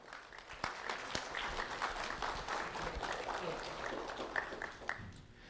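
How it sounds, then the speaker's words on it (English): An audience applauds an elementary school student honored at a community award ceremony, with steady, full clapping from a crowd throughout, a few sharper individual claps standing out near the front. "round of applause for Spiro Blett"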